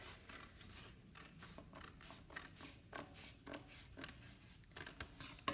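Scissors snip through paper to cut out a square for an elephant craft, a quick series of close, crisp cuts with short pauses between them, no voices.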